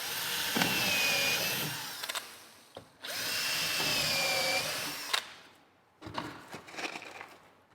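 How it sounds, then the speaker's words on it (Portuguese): A power drill bores screw holes into a furniture cabinet panel in two long whining runs, each ending abruptly, followed by shorter bursts and handling noises, close and fairly quiet. "Agora é só colocar a furação aqui dos demais parafusos."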